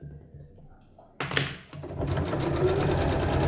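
A sewing machine stitching quilt fabric for a four-patch block starts suddenly after a quiet moment, running with a close, steady mechanical whirr to the end.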